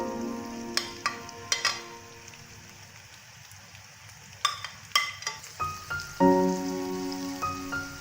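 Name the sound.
chopped onions frying with ginger and garlic in a pan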